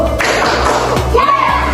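A primary school class claps a simple rhythm pattern during a Bahasa Indonesia lesson, a few separate hollow smacks spaced out over under two seconds in a room with steady low background noise.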